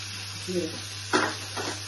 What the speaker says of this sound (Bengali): এভাবে ফ্রাই করে নিচ্ছি